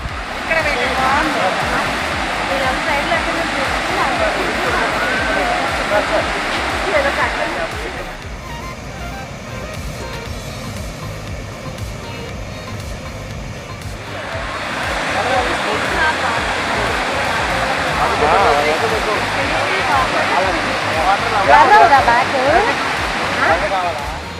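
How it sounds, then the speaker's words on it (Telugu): The Chitrakoot waterfalls, the broad falls near Jagdalpur known as India's Niagara, roar in a loud, continuous wash close by. The roar dips to a quieter stretch midway, then swells back to full strength. "అదే చిత్రకోట వాటర్ ఫాల్స్, మన ఇండియన్ నయాగరా వాటర్ ఫాల్స్"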